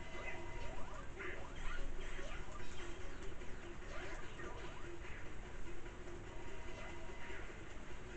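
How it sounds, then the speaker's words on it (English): A rumbling, skittering rush from the Mario game, as the caterpillar-like Wiggler, treated like a train, charges. It runs steady and busy throughout, with quick pattering textures over a low rumble and no voices. "Here comes Wiggler the train."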